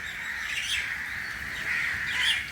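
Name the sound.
birds chirping outside in the morning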